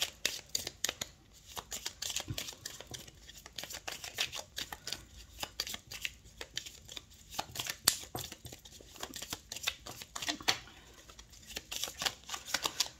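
Tarot-style cards are shuffled, handled and laid out on a table, producing close, soft rapid flicks and papery slaps in steady irregular bursts with no talk.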